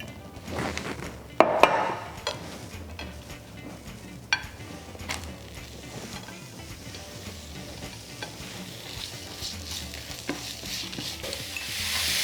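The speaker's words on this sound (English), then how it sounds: "Add some cooking oil in the pan and stir fry each vegetable separately." Vegetables such as zucchini stir-fried in cooking oil in a pan for bibimbap, a steady close sizzle with a few sharp utensil knocks and scrapes, growing a little louder toward the end, no voices.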